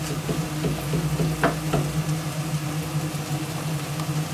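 Pieces of stew meat brown in a stew pan, giving a constant close sizzle and frying hiss with a few soft stirring clicks, heard alone without talk.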